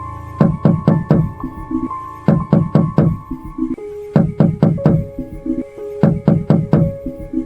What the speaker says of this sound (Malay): Kali ni bunyi ketukan bertelu talu dan kuat dari arah belakang.